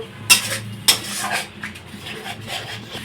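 Fried rice being stir-fried in a pan, with two sharp metal clinks of a spatula early on, then steady scraping and stirring close up, without any voices.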